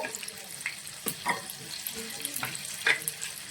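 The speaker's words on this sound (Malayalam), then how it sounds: "ഒരു 4 ഏലക്ക ഇത് ചേർത്ത് നന്നായിട്ടൊന്ന് സോട്ട് ചെയ്തെടുക്കണം" Whole cloves and cardamom pods frying in melted butter in a pan for paneer butter masala, giving a soft, close sizzle with scattered small pops and stirring scrapes, no talking.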